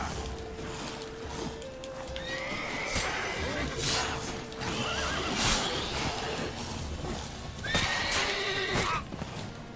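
Horses in The Witcher 3: Wild Hunt whinny and neigh several times across the stretch, with clip-clopping hooves and game ambience underneath.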